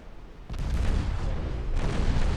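Torpedoes strike enemy ships in a naval strategy game set in a 1949 Ottoman campaign. A sharp onset gives way to a loud, rumbling explosive roar that swells again partway through and holds to the end, with no talk.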